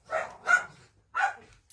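Dogs let out into a yard bark at builders outside, three sharp close barks in quick succession followed by the start of a fourth, with no talk.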